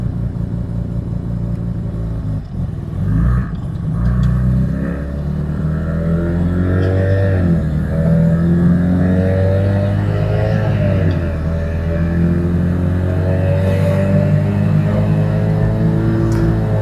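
A car with an 8HP automatic transmission accelerates steadily at light pedal, its engine note rising through the gears in repeated sweeps, loud and close from inside the cabin.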